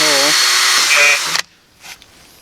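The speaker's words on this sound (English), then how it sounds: "And you'll drill through that second" A close, loud power drill with a 3/16-inch bit whines for just over a second drilling through plastic, its pitch shifting as it bites, then cuts off abruptly.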